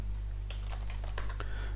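Rapid, close clicks of typing on a computer keyboard, a quick irregular burst of keystrokes over a low steady electrical hum.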